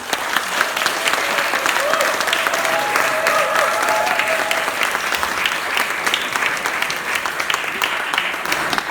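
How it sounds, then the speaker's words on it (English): An audience at a book launch applauds the author Hidayah Amin, a loud, sustained burst of many hands clapping close by, steady and dense throughout, with faint voices rising beneath it. "Let's give a big round of applause to Hidayah Amin."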